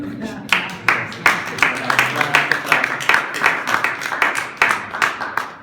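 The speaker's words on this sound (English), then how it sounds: "Okay, you guys can clap." Sharp, irregular claps ring out steadily, a small group applauding nearby with a few voices mixed in.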